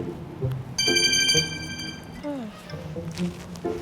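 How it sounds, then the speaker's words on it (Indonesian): A bright electronic ringtone chimes briefly with several high tones, amid faint background voices and household noise. "HP Kak Rara berdering nih"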